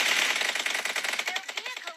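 Rapid automatic gunfire in the mobile battle royale game BGMI, dense repeated shots close and loud throughout, with a car blast nearby in the game.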